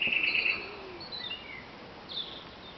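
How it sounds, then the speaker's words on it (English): A song thrush sings a few clear whistled phrases against a soft outdoor hiss, moderately distant, with short pauses between the notes. "that could be a song thrush."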